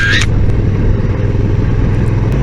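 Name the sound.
Honda NT1100 twin-engine motorcycle riding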